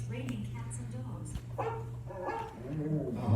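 A dog barks and yips a few times over a steady low hum, with speech in the background.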